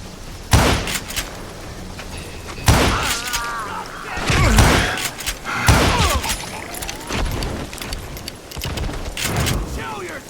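Gunfire in Call of Juarez: Gunslinger, with loud, heavy shots landing every couple of seconds, each with a booming tail, mixed with game voices shouting.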